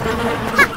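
Bees buzz in a video game, a steady close insect drone running through the short moment with a brief louder swell near the end.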